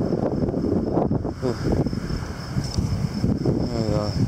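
A storm gust roars across the microphone in thick, turbulent bursts that rise and fall over a few seconds, with a person's voice faintly mixed into the wind noise.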